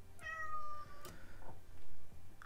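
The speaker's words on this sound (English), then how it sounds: "Can you hear the cat?" A cat meows indoors, a drawn-out tonal mew followed by a couple of shorter, softer calls, moderately close and alone with no talking.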